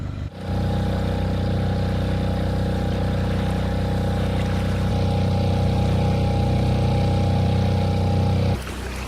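Sailboat engine idling steadily on a calm, glassy lake, a close continuous motor drone with a low hum that runs evenly before cutting off abruptly near the end.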